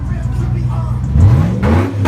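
Yamaha FZR motorcycle engine revving nearby: a steady loud idle rises into a quick throttle blip with climbing pitch, then settles back into a rough rumble.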